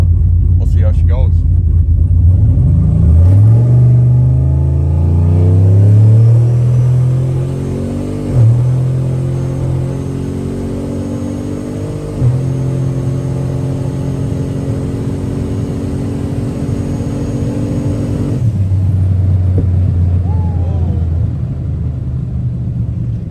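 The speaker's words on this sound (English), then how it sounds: "Gonna do a full throttle rip here on pretty much all the boost, and we'll see how she goes." An 88mm-turbo GMC truck makes a full-throttle run on high boost, its loud engine note sweeping upward through repeated gear changes with brief breaks between pulls, then settling into a steady roar near the end.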